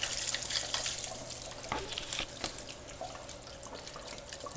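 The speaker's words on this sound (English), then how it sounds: "the second line is slowly working its way back down into a trickle" Water trickles through an aquarium overflow drain line: a faint, continuous trickle with scattered small drips and splashes, heard close and alone.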